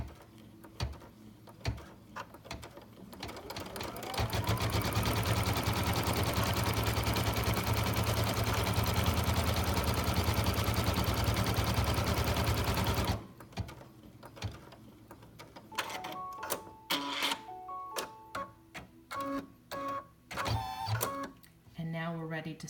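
A Brother Dream Machine embroidery machine stitches a letter emblem with a loud, steady, rapid whirring hum that runs for about nine seconds before stopping, followed by scattered clicks and beeps.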